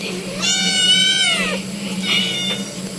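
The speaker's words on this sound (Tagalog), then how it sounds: "Yung mga pusa, may pusa dito" A cat on a rural farm in Palawan meows twice, first a long, loud, close wavering call, then a shorter, fainter one, over a steady background hum.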